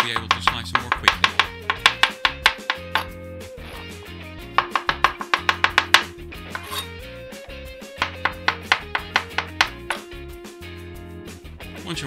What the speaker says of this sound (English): If you cut your mushrooms in half before slicing them, they won't roll away and you'll be able to slice them more quickly.